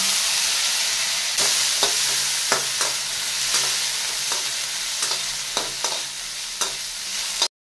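Diced potato with a pinch of turmeric frying in a pan, a strong steady sizzle broken by repeated clicks and scrapes of stirring, close and without speech.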